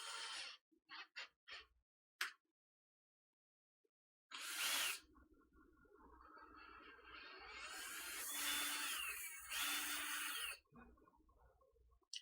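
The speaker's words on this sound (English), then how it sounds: "we're going to switch to the drill" A power drill whirs steadily for several seconds during a 3D printer build, starting after a few short clicks and bursts, with a brief pause and then another sustained run near the end.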